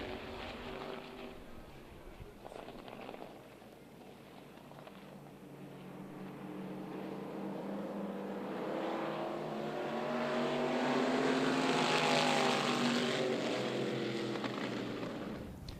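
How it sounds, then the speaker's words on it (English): Open-wheeled modified race cars lapping Myrtle Beach Speedway, engines roaring steadily and swelling louder as the pack passes close by, with a faint announcer voice underneath. "Last lap for Wade Skipper in that black and pink open wheeled modified."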